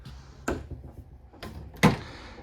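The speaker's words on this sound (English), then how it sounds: "All soft closed doors, by the way, too." Soft-close cabinet doors in a 2024 Keystone Cougar 355FBS RV, two muted closing bumps about a second apart, close and fairly soft, with light handling noise between.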